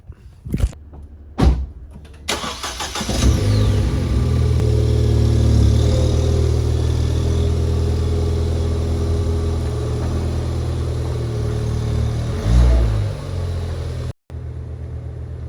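A BMW M4, a rear-wheel-drive car, gives a few thumps before its engine fires up, then settles into a loud, steady rumble as it drives in, with a brief rev swell near the end.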